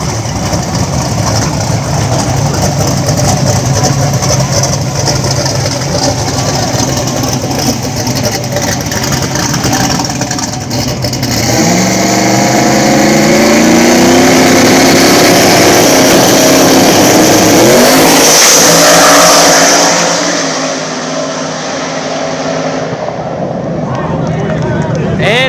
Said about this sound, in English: we got Eddie West over here in the Camaro. Single turbo power taken on Travis Smith in the single turbo LS Mustang